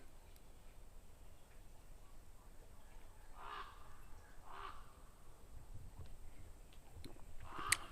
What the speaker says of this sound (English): That's a raven sound.